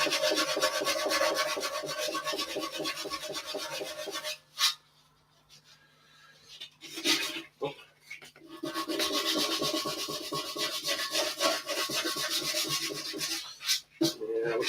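Lacquer is rubbed off metal by hand in repeated scrubbing strokes, close and fairly quiet, with a few short pauses between bursts of rubbing.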